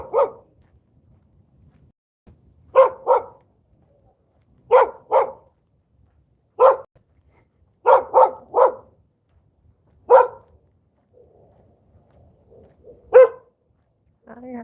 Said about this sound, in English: Oh, the dogs want to bark with me.